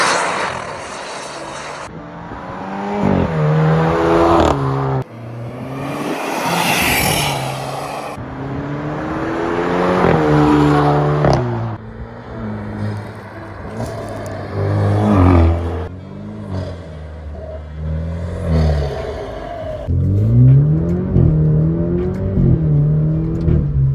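An Alfa Romeo Giulia 2.0T with an aFe axle-back exhaust and resonator delete revs hard in several loud climbing pulls, with sharp pops on the upshifts between them.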